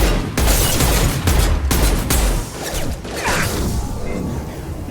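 Robotic mechs firing in Mass Effect 2, a continuous loud barrage of broadband gunfire with sharp bursts and impacts over a low rumble, thinning toward the end.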